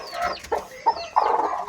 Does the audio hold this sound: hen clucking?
yes